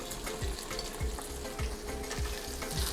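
Kaffir lime leaves and ginger stir-frying in a hot pan for a spicy Indonesian Padang seafood dish, a steady loud sizzle with rhythmic scraping strokes of a spatula roughly every half second, close up with no talking.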